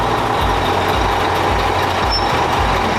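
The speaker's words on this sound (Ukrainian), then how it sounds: "він вивозить автомобіль" A heavy fire truck engine rumbles steadily and loudly nearby as the truck is driven out, with a rhythmic low throb and a faint high tone.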